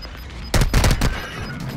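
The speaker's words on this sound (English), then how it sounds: "Oh, someone shot me." Bursts of gunfire in Call of Duty: Modern Warfare II, with a loud volley starting midway and several rapid close shots following in quick succession before fading back to low background noise.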